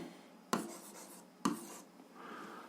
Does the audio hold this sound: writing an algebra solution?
yes